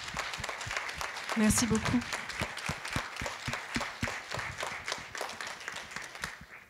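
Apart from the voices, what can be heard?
audience applause after a lecture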